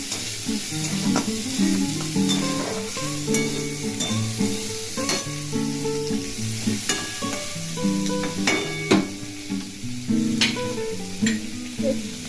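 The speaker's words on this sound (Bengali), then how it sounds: "অল্প তেলেতে যাতে হালকাভাবে নাড়তে হবে একটু" Potatoes and pointed gourd being stirred in a little oil, with a steady sizzle under repeated scraping and clattering strokes of a spoon against the pan, close and continuous throughout.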